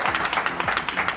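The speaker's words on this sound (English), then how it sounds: "Let's have another little round of applause." A small audience at a podcast event gives a brief round of applause, quick overlapping claps sounding close and fairly dense for about a second.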